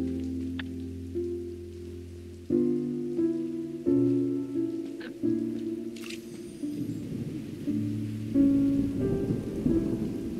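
Rain falls steadily in the Fontaine region of the video game Genshin Impact, with low rumbles of thunder beneath sustained musical tones that shift in pitch; a few sharp higher accents cut through.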